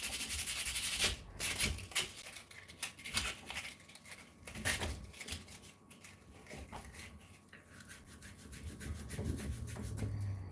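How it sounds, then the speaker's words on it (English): Rapid repeated rasping strokes of sanding, rough and scratchy, continuing steadily at close range with brief pauses between bursts. "We got 5 minutes of sanding going on here."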